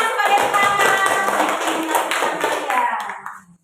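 A classroom of students claps together for group three in a teacher training lesson, a brisk rattle of many hands that stays strong, then thins and dies away in the final moments.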